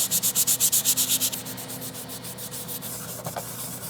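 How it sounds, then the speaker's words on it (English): A scouring pad scuffs plastic parts of a Spirit Halloween ghost trap prop, starting with a quick run of loud, rhythmic back-and-forth rubbing strokes, then easing into softer, steadier scrubbing up close. "everything else on this kit will get hit with this scouring pad"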